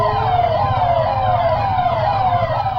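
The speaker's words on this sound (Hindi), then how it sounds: "दिल्ली की सड़कों पर बजता ये सायरन बहुत खास है" Police vehicle sirens in a convoy circling Bangla Sahib Gurudwara on Delhi streets, with the siren also played from a loudspeaker: a loud, steady wailing tone that rises and falls over low traffic rumble, with no talk.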